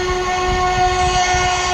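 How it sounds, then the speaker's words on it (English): The locomotive Dread 46 sounds a steady, loud whistle that holds as one sustained chord for nearly two seconds, with a low rumble beneath it and no voices. "this is the noise that you're about to hear from Dread 46. When you hear that whistle blowing through the distance"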